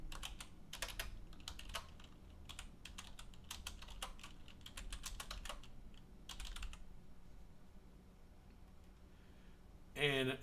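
Keys clatter on a computer keyboard in quick irregular bursts with short pauses, close and fairly quiet, ending with a brief louder clack.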